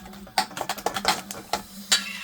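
Onion and egg mixture stirred in a pot for a dried pollack stew, producing close, uneven scraping and clinking strokes of a utensil against the pot, with no talk.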